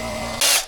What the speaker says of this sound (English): Got the gasket sprayed.